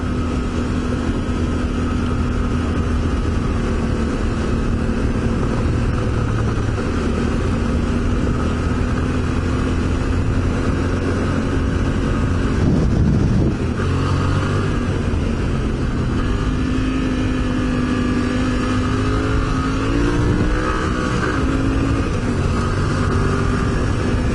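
A Yamaha T7 adventure motorcycle being ridden alongside a Honda Africa Twin, with a steady loud engine drone and wind rush from an onboard position and slight shifts in pitch as speed changes.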